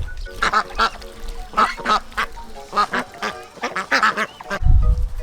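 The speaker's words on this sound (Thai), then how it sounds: "เป็ดมันดำน้ำค่ะ" Ducks quack repeatedly in quick bursts at a petting farm in Bangkok, close and fairly loud, with a rumble of handling or wind noise near the end.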